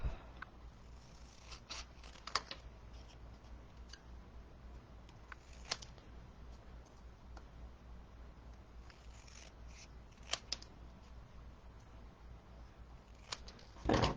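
Paper snipped with scissors during a stamping craft, a few short, quiet cuts and rubs scattered through a mostly hushed stretch, with a slightly louder cluster at the very end.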